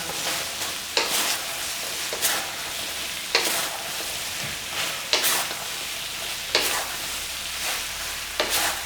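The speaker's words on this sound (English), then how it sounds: "Now we're just going to tune up the heat and we're going to toss the ribs in." Crispy ribs tossed in sweet and sour sauce in a hot wok for Cantonese crispy sesame ribs, sizzling steadily with about eight rhythmic scraping tosses roughly every second, close and loud with no talking.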